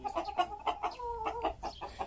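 Roosters cluck and squawk close by in an agitated, uneven run of calls, several birds overlapping in quick bursts.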